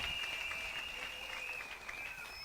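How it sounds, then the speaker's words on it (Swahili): Applause at a church ordination ceremony for a pastor's sister, heard as a steady wash of clapping from a gathered congregation, moderately distant and fairly quiet, with a faint sustained tone running through it. "Pigieni mama yetu makofi mazuri."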